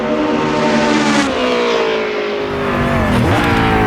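A Matra Formula race car engine in the Assetto Corsa racing game screams loudly and continuously at high revs, pitch sliding down and climbing again through gear changes, with no voices over it.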